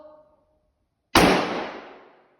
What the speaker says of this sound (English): let's fire one into the bunker.